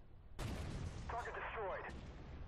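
A Merkava 2C tank gun firing in Armored Warfare, one loud sharp blast followed by a rumbling tail and a brief mechanical whine, with a voice heard in the background.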